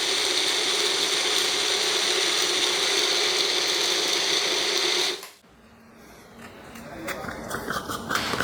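A bullet mixer grinder runs loud and steady for about five seconds while grinding grapes into pulpy juice, then cuts off abruptly, leaving quieter faint rattles and handling noises.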